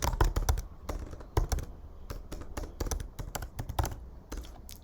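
Someone types on a computer keyboard while entering a Python print command, producing quick, irregular clusters of close, crisp key clicks and taps with no talk.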